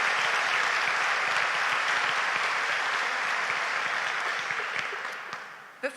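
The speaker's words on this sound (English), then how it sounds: "Let's give a round of applause to our platform party." A large audience at a college of nursing pinning ceremony applauds the platform party, giving dense, sustained clapping that fills the hall at an even level, then thins and fades out near the end.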